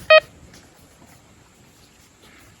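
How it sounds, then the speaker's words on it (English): A single short electronic beep sounds at the start, loud and close, followed by quiet background noise. "Power button. And it beeps."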